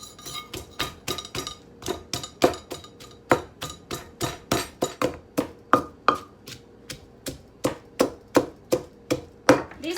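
A knife smashes and chops ginger slices on a cutting board for a water spinach salad: steady, crisp, close thwacks, roughly three per second, with no talk.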